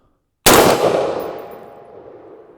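A single loud AR pistol gunshot cracks sharply after a brief silence, then rings out and decays over about two seconds, likely echoing at an outdoor range.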